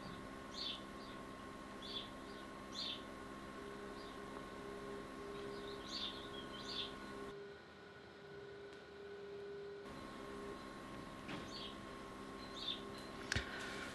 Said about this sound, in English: You can probably hear the birds singing outside